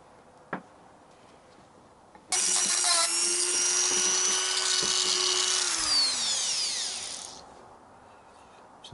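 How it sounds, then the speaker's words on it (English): A Dremel rotary tool grinds on a part of a Yamaha XJ900S motorcycle with a high, steady whine for about five seconds, then winds down as it spins to a stop, close and loud. "Thank God for people who borrow you Dremels."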